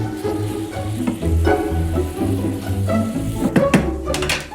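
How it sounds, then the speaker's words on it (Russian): Mushrooms and onions fry uncovered in a pan, a constant sizzle broken by the knock and scrape of a spoon stirring them, with a burst of sharper clatters near the end. "начинаем то и дело помешивать и готовим без крышки, чтобы влага испарилась и грибочки с луком слегка прижарились"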